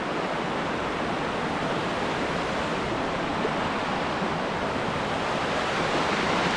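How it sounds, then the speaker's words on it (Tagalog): Continuous rushing water roars steadily and loudly throughout, a dense, unbroken wash of sound from Gabur Gabur Falls in Peñablanca, Cagayan. "malakas yung tubig"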